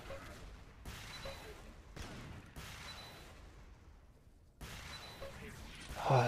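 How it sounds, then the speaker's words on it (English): Rocket launcher fire traded between two players in an Xonotic duel on the Aerowalk map, a run of sharp blasts and whooshing bursts at irregular intervals under a steady game-sound bed. "Oh, some nice rockets coming out from both players here."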